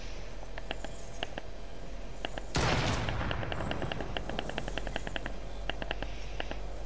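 Rapid bursts of gunfire in the Fortnite-style zone wars game, clustered into quick strings of shots with a loud blast partway through, over a constant low background rumble.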